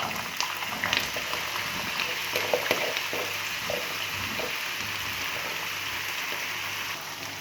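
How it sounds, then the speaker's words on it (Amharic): Potatoes fry in hot oil for an Ethiopian breakfast, making a steady, close sizzling hiss with a few faint crackles throughout and no talking. "ከዛም ያው ዘይቱ ትንሽ ጋል ሲልልኝ ድንቹን እጨምራለሁ ማለት ነው"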